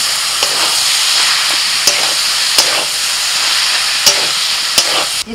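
Boiled cauliflower frying in spiced masala of chilli, cumin, coriander and turmeric, a loud steady close sizzle with occasional sharp clicks of a spatula against the pan.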